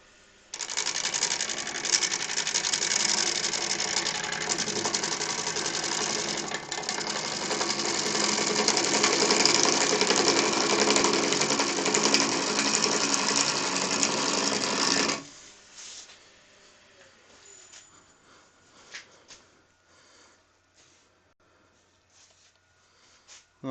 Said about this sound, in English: I'm getting some nice shavings coming off this now, which is good.